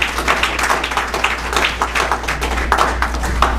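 A crowd at a handover ceremony applauds continuously, with dense, steady clapping from many hands filling the room over a low hum and no voices standing out.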